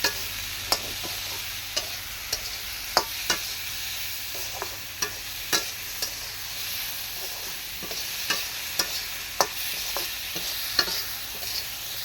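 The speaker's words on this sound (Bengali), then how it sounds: "সবজিগুলো দিয়ে কিছুক্ষণ ভাজবো, কিছুক্ষণ অল্প ভাজতে হবে" Vegetables fry in a pan over a clay stove under a soft sizzle, broken by repeated sharp scraping knocks of a spatula stirring at an irregular rhythm, close and fairly quiet.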